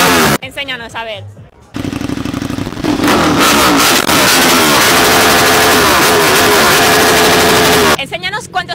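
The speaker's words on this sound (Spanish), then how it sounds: "Enséñanos cuánto suena tu moto." Motorcycle engine revved loudly up close, a long crackling, popping roar rising and holding for several seconds between short bursts of people talking at the start and the end.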